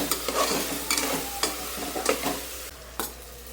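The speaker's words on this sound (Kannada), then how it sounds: "ಇವಾಗ ಇದಕ್ಕೆ ಪೌಡರ್ಸ್ ಎಲ್ಲ ಹಾಕ್ಕೊಂಡು ಸ್ವಲ್ಪ ಚೆನ್ನಾಗಿ ಹಸಿ ಸ್ಮೆಲ್ ಹೋಗೋ ತನಕ ಫ್ರೈ ಮಾಡ್ಕೊಬೇಕು ಇದು ಚೆನ್ನಾಗಿ ಫ್ರೈ ಆಗಲಿ" Tomatoes frying with spice powders in a pan, sizzling steadily while a spoon scrapes and stirs in sharp, irregular strokes, close and clear with no talking.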